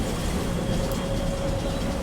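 A Kolkata tram runs between Shyambazar and Esplanade, its steady close rumble of wheels on rail holding even and loud throughout, with a faint high whine over the top.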